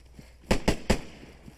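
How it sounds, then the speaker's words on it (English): Three sharp gunshots in the video game DayZ, loud and close together in quick succession, with no talk over them. "Go to the gunshots"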